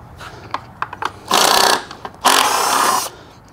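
Tools working on a dirt bike skid plate during its removal: two loud bursts of whirring, rattling tool noise, each about half a second to a second long, preceded by a few short clicks and taps, close by.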